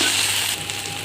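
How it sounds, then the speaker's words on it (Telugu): Ginger garlic paste fries hard in a hot pan, a loud, steady, close-up sizzle with a bright crackling hiss throughout and no talking. "అల్లం వెల్లుల్లి పేస్ట్ బాగా వేయించేద్దాం."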